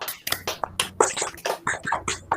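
Students clap their hands in a classroom, a scattered run of sharp separate claps with uneven spacing that stays fairly light and close.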